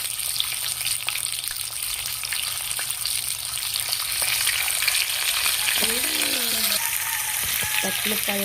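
Tilapia frying in hot oil, giving a loud, steady close-up sizzle and crackle throughout, with faint voices in the background toward the end.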